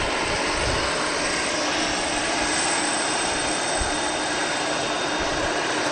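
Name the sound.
Aer Lingus Airbus A320 airliner arriving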